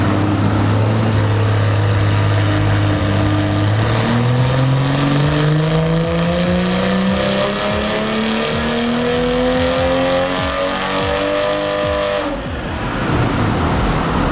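A BMW G20 M340 on a dyno revs loud and steady, its pitch climbing smoothly through a long pull before cutting off sharply near the end and settling back.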